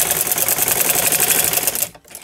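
Fabric for a decorative latkan tassel being stitched on a sewing machine, a fast, even mechanical chatter close up that runs steadily and then stops abruptly near the end.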